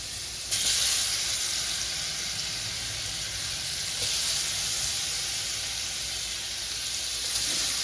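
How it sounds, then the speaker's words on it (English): Banana French toast slices frying in hot oil, a loud steady sizzle and hiss that bursts in as they drop into the pan and holds evenly throughout, close and alone with no talking. "I'm gonna put them in the oil."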